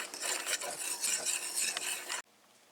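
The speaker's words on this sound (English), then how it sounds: "Once you get your ingredients in there, you just want to get it a good whisk." A whisk scrapes and clatters against a bowl, mixing biscuit batter ingredients in quick, close, scratchy strokes that stop abruptly.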